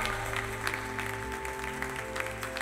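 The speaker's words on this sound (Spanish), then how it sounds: "Dale un aplauso al Señor con todo su corazón" Steady applause from a church congregation during a sermon, continuous and fairly dense, with a low hum underneath.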